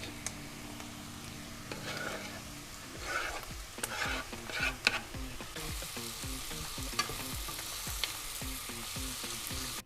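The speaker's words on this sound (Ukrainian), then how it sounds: "Грибочки додаємо і смажимо недовго" Steady crackling sizzle of mushrooms frying in a pan, with scraping stir strokes and occasional clinks, fairly close and continuous throughout.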